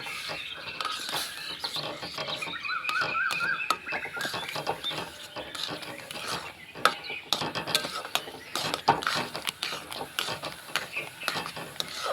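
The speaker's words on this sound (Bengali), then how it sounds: "এই গরম দুধটা এখানে সুজির মধ্যে অল্প অল্প করে দিতে থাকবো আর নাড়তে থাকবো" Hot milk being stirred little by little into semolina in a pot, a spoon clicking and scraping rapidly and continuously against the metal, close and busy with no voices.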